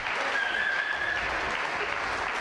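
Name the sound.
audience applause at a concert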